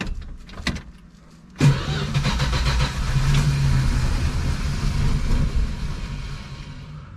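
A 1967 Dodge Dart V8 fires up on gas poured down the carburetor throat, cranking briefly and then catching into a loud, rough running rumble that holds steady close by.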